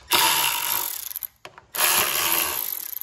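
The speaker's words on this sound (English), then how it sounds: "that is a 10-millimeter socket that will take the fuel pump down" A socket wrench with a 10-millimeter socket ratchets out the fuel pump bolts on a Kohler 7000 Series engine, making two close, loud bursts of rapid clicking separated by a short pause.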